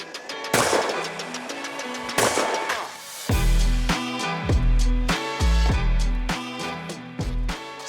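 A Miroku 6000 shotgun fires at an outdoor clay shooting stand, two sharp, loud blasts about a second and a half apart, each ringing out briefly over a low steady background.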